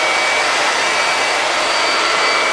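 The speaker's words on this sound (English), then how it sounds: "it's a lot quieter than using a hair dryer." A hair dryer blows loud and steady at close range, a harsh continuous rushing whine with a faint tonal hum, heard alone without speech.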